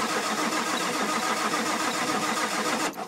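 A diesel engine, primed with ether, fires and runs with a loud, steady close-up rumble that holds for about three seconds before it dips slightly at the end. No one speaks.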